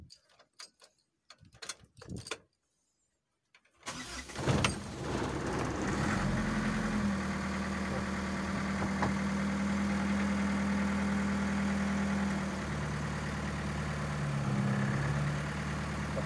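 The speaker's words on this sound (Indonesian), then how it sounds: "Coba kita nyalakan mesin." A used 2003 Ragasa truck's engine cranks over after a few clicks and knocks, catches, and settles into a steady rumbling idle with a low hum and faint ticking, heard up close.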